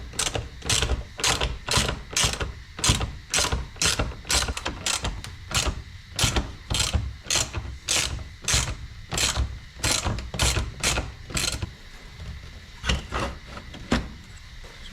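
T30 Torx bolts on a lower X3 door being undone, a fast run of sharp, evenly spaced metallic clicks like a ratchet, close and steady for most of the stretch, pausing briefly before a few final clicks.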